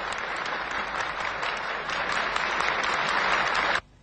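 Soviet deputies and guests in an assembly hall give a stormy ovation, sustained dense clapping that swells slightly and then cuts off sharply near the end, with no talk over it.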